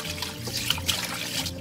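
Water runs and trickles steadily while tilapia fish is rinsed, a brief close splashing flow with small drips and sloshes.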